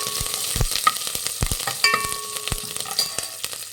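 Mustard seeds, cumin, green chillies and curry leaves sizzle in hot oil for a Mysore-style saaru tempering, a loud crackling fry dotted with sharp pops and spatters throughout.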